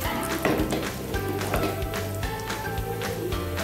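Red chilli powder frying with shallots in hot oil for a kumbalanga mango curry, a steady, close crackling sizzle with small pops, continuous and without speech.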